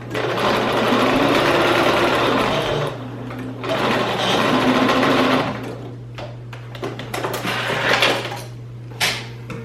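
A sewing machine runs in steady bursts while stitching a 3/8 inch seam allowance on a popover, its motor whirring loud and close, pausing briefly between runs with a few small clicks and handling noises.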